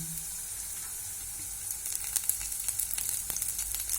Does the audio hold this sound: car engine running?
no